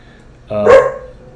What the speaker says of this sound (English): Excuse me, that is my dog barking.